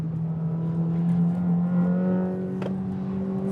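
A 1250 bhp Corvette ZR1X sports car powers out of corners with a strong, steady engine drone and layered harmonic whine that rises and falls slightly. The car stays close and loud throughout, with no talking.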